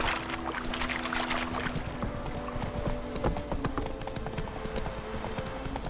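Horse hooves clip-clop in a steady, close rhythm in The Witcher 3, riding along a village road with a faint background hum and occasional other game sounds.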